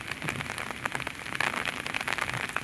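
Steady retreating-monsoon rain patters densely on a surface in the Konkan, a continuous crackling wash of drops with no voices.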